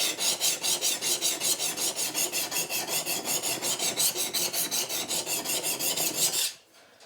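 A knife blade drawn repeatedly across a sharpening stone, a close, even rasping stroke about three times per second for six seconds, then stopping abruptly.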